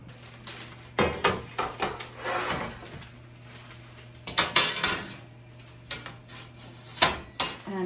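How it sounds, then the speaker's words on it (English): Metal cookie baking pans clatter and scrape on a kitchen counter in a few short bursts of knocks and rattles, close and moderately loud, with a faint steady hum underneath. "So let's get our cookie pan set up."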